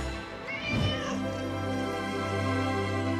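Two cats, sisters from the Île d'Yeu with six-toed paws, meow close up, one rising drawn-out call followed by a sustained, steady wail that holds for several seconds.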